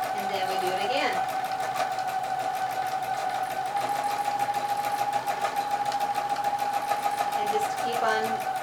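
A sewing machine free-motion quilts a scalloped stitch with a steady, close mechanical whir that runs unbroken throughout, while a voice talks briefly over it near the start and end.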